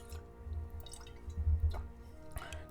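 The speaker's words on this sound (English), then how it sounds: "let me take a sip of water" A person sips water from a glass bottle, producing a few soft, close liquid gulps and wet mouth sounds in a quiet room.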